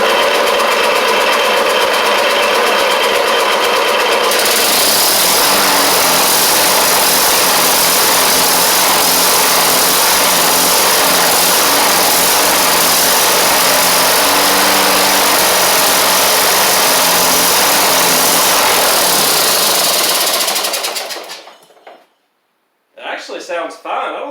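A Briggs & Stratton opposed-twin engine swapped into a Craftsman YS4500 riding mower runs without mufflers, a loud, steady, broadband engine roar that holds for about twenty seconds before cutting off abruptly.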